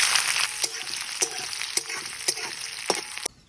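Whole cumin seeds, a dried chili and chopped onion fry in hot oil with a steady, close sizzle, broken by regular sharp scraping taps of a spatula stirring the pan before the sound drops away.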